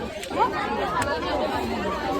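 Crowd chatter at the Old Goa church feast forms a steady, close wash of overlapping voices, with a nearer voice talking in the foreground throughout.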